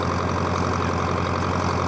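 A John Deere 3020 diesel tractor engine runs steadily while driving, a loud, constant low rumble with an even mechanical drone and no pauses.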